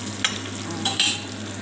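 Butter melting in a pan as flour is stirred in for a béchamel sauce, a soft steady sizzle broken by a few quick, close scraping strokes of a spoon, no talking.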